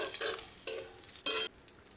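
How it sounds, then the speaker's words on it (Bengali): Chopped onions, slit green chillies and chopped garlic fry in hot oil in a pan, with three short bursts of stirring and sizzling separated by quieter gaps. "পেঁয়াজটা ভেজে নিচ্ছি"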